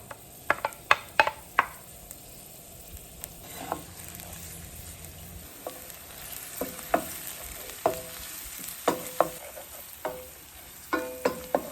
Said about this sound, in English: To my oil, I'm going to go ahead and add my garlic and my green onions.